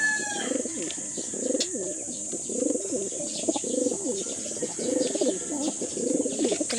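A pair of fighting pigeons coo repeatedly and close up in rhythmic throaty bursts, with occasional chirps and a faint wing flutter over a steady high background hiss.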